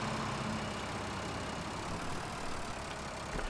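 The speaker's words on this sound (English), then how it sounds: "We'll get the tractor and the mower to follow." Tractor engine in the Farming Simulator 17 video game, a steady low droning hum running continuously at moderate level with no talk over it.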